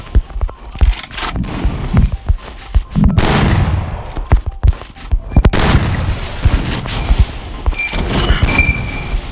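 Free Fire video game gunfire in a busy battle, dense overlapping shots and booms under constant loud game noise, with short bursts and heavy impacts throughout.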